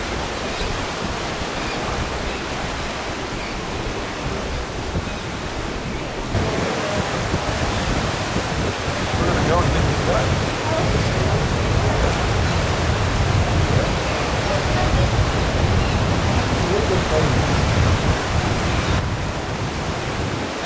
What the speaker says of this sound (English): I'll show you how strong the current really is under this bridge.